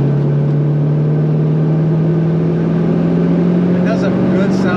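A 1972 Chevrolet El Camino with a numbers-matching 350 V8 downshifts and pulls hard, a loud steady engine drone rising slowly in pitch from inside the cab, with people talking over it.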